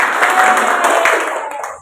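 Students in a classroom clapping together in a short burst, fairly close and loud, fading out after under two seconds.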